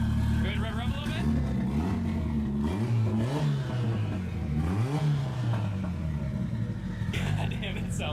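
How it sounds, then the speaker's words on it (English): A car with a 4G63 engine revs repeatedly, its pitch swelling and dropping in several throttle blips over a steady rumbling idle, loud and close, with a voice speaking over parts of it. "Go ahead and rev a little bit."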